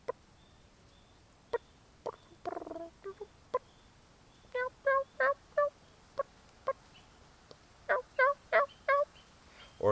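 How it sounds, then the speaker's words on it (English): A relaxed wild turkey feeding putt: short, clucking putt notes, scattered at first and then in quicker clusters, clear and fairly close in a quiet setting. "Then we have just a regular putt."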